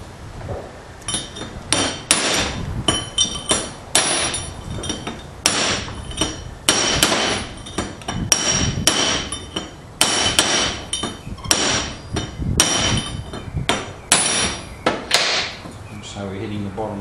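Sharp metallic hammer blows strike a trailer hub over and over in an uneven rhythm, loud and close, while a voice talks briefly between the strikes.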